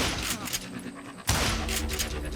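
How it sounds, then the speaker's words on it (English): Gunfire in the Western video game Call of Juarez: Gunslinger, a few loud shots with a sharp blast near the middle over steady game ambience. "I just kept shooting at anything I could see up in those damn rocks"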